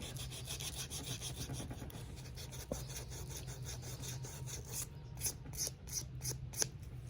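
Small pieces of sandpaper rubbed by hand with light pressure across the yellowed sole of a Victor Cruz trainer sneaker, a quiet, close scratchy scraping that turns into short rhythmic strokes toward the end.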